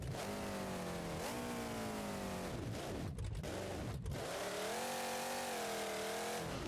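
A stock engine in a monster truck from the BeamNG.Drive video game, at a Monster Jam event, revs loudly and continuously, its pitch climbing and dropping in several surges with a brief cut in the middle.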